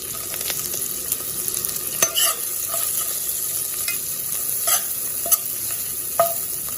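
Onions frying and being stirred in a pan for pork curry, a steady sizzle with scattered spatula scrapes and clicks, fairly close, no voices.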